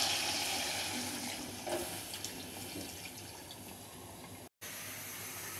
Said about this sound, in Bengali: এখন সমপরিমাণ পানি দিয়ে ঝোল দিয়ে দিব।